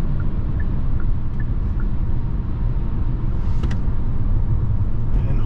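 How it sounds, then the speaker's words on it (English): A 2024 Hyundai Kona N-Line AWD with an 8-speed automatic downshifts while slowing, giving a steady low engine and road rumble that fills the cabin with no clear shifts standing out. "See how this does when we slow down, do some downshifts, see how she does."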